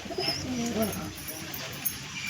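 Pigeons coo at a home loft where a Lal Shira pigeon and a male and female pair have just landed, soft low coos near the start under quiet room noise, with a few faint higher chirps.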